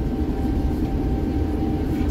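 Turkish Airlines Airbus A350-900 taxiing at Antalya Airport after landing, heard from inside the cabin as a loud, steady low engine rumble and hum with a faint tonal whine.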